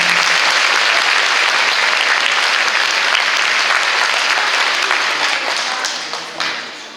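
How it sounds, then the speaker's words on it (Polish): Applause at a carol and pastoral song concert fills the room loudly and steadily with dense clapping, then thins and fades near the end. "Wielki brawo."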